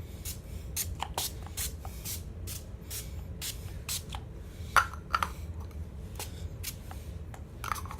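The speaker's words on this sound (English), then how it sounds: "Next, I am using my Wet n Wild setting spray." Wet n Wild makeup setting spray misted close by in many quick, quiet spritzes, each a brief hiss, with small clicks in between and no talking.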